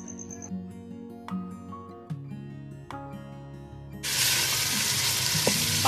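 Chicken frying with green chilies for white karahi, a soft scrape and stir over a low sizzle that swells into a loud, steady frying hiss for the last couple of seconds.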